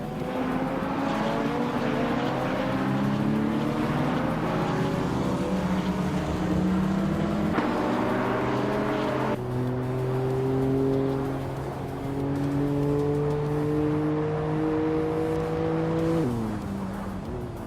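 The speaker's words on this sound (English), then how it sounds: "Joey Pastrami is driving a 1984 Ford RS 200 and is currently in 7th place" Engine of a 1984 Ford RS 200 race car in a racing video game roars continuously, with rising and falling revs across repeated gear shifts and no speech, holding loud and steady throughout.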